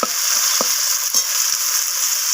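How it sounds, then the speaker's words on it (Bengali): Steady, loud sizzling of carrots and beans frying in hot oil, with a few soft stirring scrapes and no talking. "তো গাজর আর বিনসটাকে আমি একটু ভাজা ভাজা করে নিচ্ছি।"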